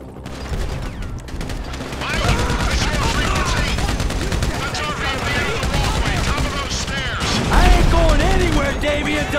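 Rapid gunfire crossfire in Grand Theft Auto 5 keeps up without pause throughout, loud and close, with shouting voices layered over the shots.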